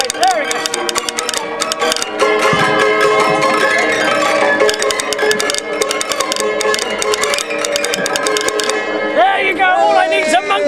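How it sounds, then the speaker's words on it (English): A barrel piano, or Tingaleri, plays a lively tune with wood block and triangle at a Victorian weekend event outdoors. The notes are bright, dense and continuous, and a voice seems to sound over the music near the end. "And this has a barrel here with some pins on it, and they make the piano work here."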